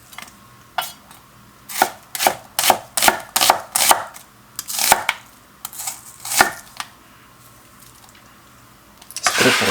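A knife slices onion on a cutting board in a run of sharp, distinct chops, about a dozen in quick succession, then a pause and a final burst, close and clear with no talk.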